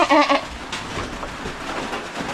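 A goat bleats close by in a short, wavering call lasting under half a second, then low farmyard background noise continues with faint shuffling and no further calls.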